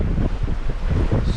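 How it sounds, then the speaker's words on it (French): Wind buffets a microphone aboard a sailboat at sea near Elba in 13 to 19 knot winds, a loud continuous rumbling gust with a faint wash of water underneath and no voices. "Le vent vient de là."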